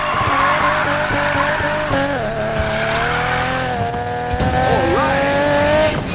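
Car drifting in the Need for Speed Payback video game, with a loud, sustained engine roar and continuous high tire squeal that rises and bends with the slide, close and dense throughout.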